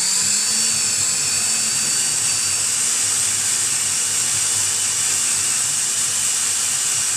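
A drill with a core bit widening a one-inch hole to one and three-sixteenths, producing a loud, steady high whine and grinding hiss that runs unbroken throughout.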